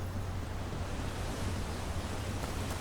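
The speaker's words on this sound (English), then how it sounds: "The sounds of the waterfall." A video game waterfall in Dragon Age: The Veilguard gives a steady, dense rush of falling water, broadband and unbroken, with no other sounds standing out.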